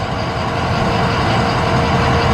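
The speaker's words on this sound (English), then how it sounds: "This is all stock exhaust." A 2004 Ford F350 Super Duty dually with the Powerstroke diesel idles through its stock exhaust, a loud, steady, close rumble with a constant clattering texture and no voices.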